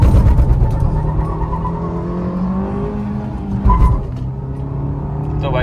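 Hyundai Creta and Maruti Ignis accelerating hard side by side in a drag race: engine notes rise and fall through gear changes, loud and close, with a brief surge of extra noise partway through.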